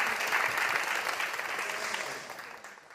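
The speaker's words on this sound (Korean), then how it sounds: "멋진 발제해주신 우리 전세준 변호사님께 다시 한번 큰 박수 부탁드립니다" Sustained applause from a forum audience for a presenting lawyer, a dense steady wash of many hands clapping at moderate distance, gradually tapering off toward the end.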